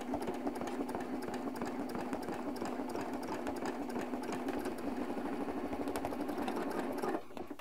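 A sewing machine with a ruler foot stitches crosshatch quilting lines, giving a steady, continuous mechanical whir up close that cuts off just before the end.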